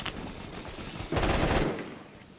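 A sniper rifle shot in a Roblox shooter modeled on Call of Duty, a loud burst of gunfire standing out briefly above a steady background, with no talk over it.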